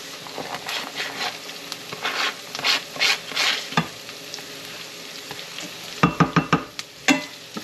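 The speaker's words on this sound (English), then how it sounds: "All right, let's saute these up." Vegetables sauté in a pan with a crackling sizzle, broken by repeated scraping stirs that come in bursts, loudest in a quick run of strokes near the end.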